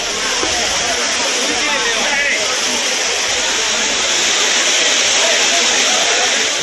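Courtallam waterfall pours down with a loud, steady broadband rush that stays constant throughout, with a faint murmur of people in the background.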